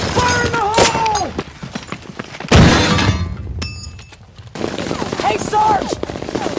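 Explosion effect in a Lego stop-motion World War II film of the Normandy D-Day landing: a sudden loud broadband blast mid-clip, set among crackling battle noise and voices before and after.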